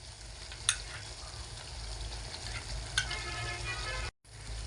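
Cashew, raisin and poppy seed paste is stirred in a pan of frying paneer, giving a soft, continuous sizzle with occasional scraping clicks and a brief dropout near the end.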